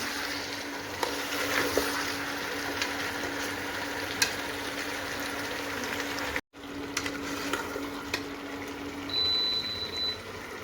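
Chicken dry-roasting in a pan for achar, a steady broadband sizzle with faint scraping and stirring, continuous and close, with a low hum underneath and a brief dropout midway.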